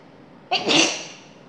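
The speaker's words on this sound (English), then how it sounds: "I'm about to sneeze." A single sharp human sneeze bursts out after a quiet pause, loud and close, then trails off into a breathy release.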